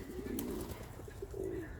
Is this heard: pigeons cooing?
yes